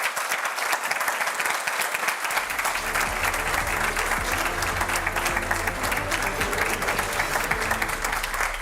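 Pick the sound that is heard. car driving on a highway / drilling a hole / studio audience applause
studio audience applause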